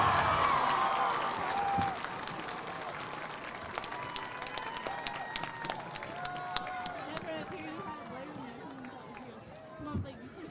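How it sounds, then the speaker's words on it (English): A stadium crowd at a high school homecoming football game applauding the homecoming queen: distant, steady clapping and scattered cheers that ease off after a couple of seconds, with a voice talking over it. "Stars fans, let's give a round of applause for all of our princess candidates, our king candidates, and ultimately our royalty."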